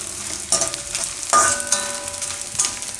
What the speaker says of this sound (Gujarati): બધો ગુંદ આપણે આ રીતે ઘીમાં શેકી લેવું.